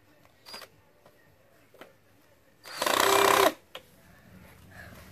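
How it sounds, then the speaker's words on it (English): Power drill driven while a wooden dog box is built, one loud whirring burst lasting under a second, surrounded by scattered clicks and knocks in an otherwise quiet space. "I have the drill the wrong way."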